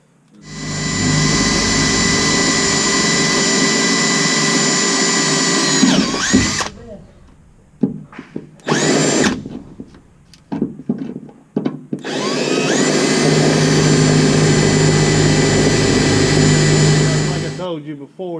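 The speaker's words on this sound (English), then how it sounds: "drill two more pilot holes" A power drill bores pilot holes in metal on a Jeep Gladiator: a long, loud whining run, several short stop-start bursts, then another sustained drilling run that winds down at the end.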